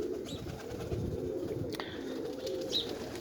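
Pigeons coo in a low, continuous murmur at a loft on a windy day, with a couple of short faint chirps over the top and no talking.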